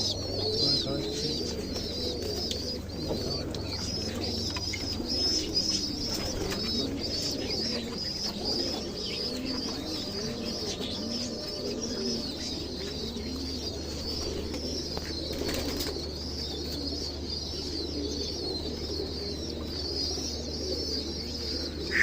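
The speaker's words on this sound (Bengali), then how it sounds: "কবুতরগুলো এই যে খাবার খাওয়াচ্ছে" Pigeons coo repeatedly close by while feeding their chicks, soft bubbling calls layered with a few chirps over a low steady hum.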